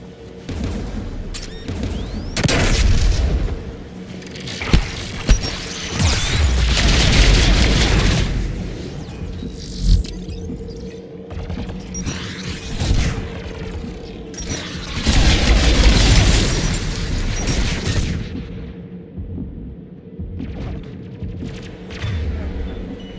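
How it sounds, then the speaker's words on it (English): Anti-aircraft gun batteries firing in a science-fiction shooter game, a busy mix of heavy booms, bursts and rumbling explosions rising and falling over about twenty seconds, loud and dense with brief lulls between volleys. "The Geth's anti-aircraft guns are up ahead."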